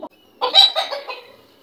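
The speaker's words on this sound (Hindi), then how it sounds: "तो गाइस ये है हमारा मुर्गा" Rooster at a home: a short, close burst of clucking calls, loud and alone, lasting about a second.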